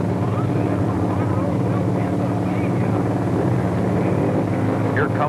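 A 1932 Ford with Chevy V8 power launches off the line at a 1960s drag strip, a loud rough engine roar blending into broad rumbling noise and wind buffeting across the whole short stretch.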